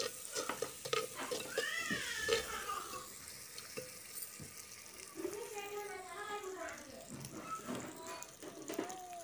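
Onions sizzling in hot oil with popped mustard seeds and cumin for a village-style arai keerai kuzhambu, steady frying crackle with stirring scrapes and clinks, close and moderately loud, no speech.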